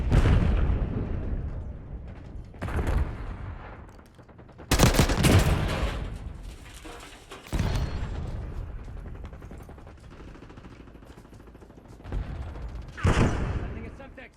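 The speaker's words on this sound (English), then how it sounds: "Watch out! Grenade!" Call of Duty: Black Ops 6 firefight with a loud grenade blast and bursts of gunfire, arriving in several sharp, heavy volleys separated by quieter stretches of rumbling and background noise.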